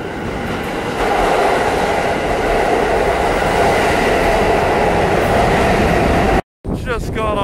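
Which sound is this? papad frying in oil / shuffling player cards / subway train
subway train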